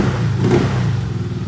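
Yamaha Gravis motor scooter engine running after repair of an error 1 fault and a fuel pump that would not work, a close, steady mid-pitched engine drone with a brief rev swell, no voices.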